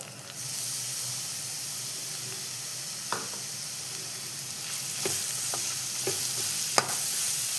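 Grated carrot with green chillies sizzles steadily in a hot pan for carrot rice, a constant close frying hiss broken by a few sharp scrapes of stirring.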